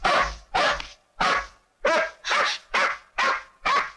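Hunting dogs bark in a steady series of eight loud, close barks with a rough, growling edge, evenly spaced with short gaps between them and no talk over them.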